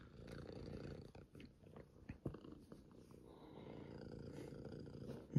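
Cat purring close up, a soft steady rumbling purr continuing throughout with a few small snuffles, faint and alone without talk.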